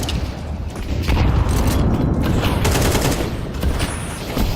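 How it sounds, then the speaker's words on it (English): Grenade explosion in a first-person shooter match, a sustained loud blast and rumble amid continuous gunfire crackle, dense and close, with no speech. "Throwing a grenade."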